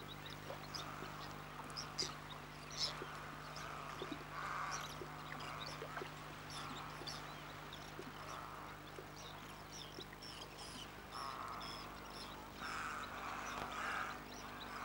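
A dense crowd of birds gathered at fish traps near Timbuktu calls and squabbles continuously, a busy overlapping chorus of harsh, quacking-like cries over a low steady background hum.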